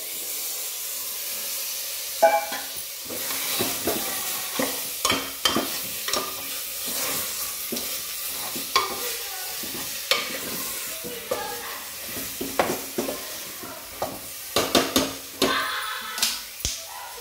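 Mutton and potato pieces fry in cooked masala paste in a pot, with a constant hissing sizzle and repeated scraping, clattering strokes of a stirring spoon at an uneven rhythm, close and fairly loud.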